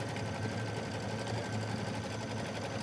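A shared community sewing machine stitches fabric in a fast, steady mechanical hum with a rapid repeating needle rhythm, continuous and close.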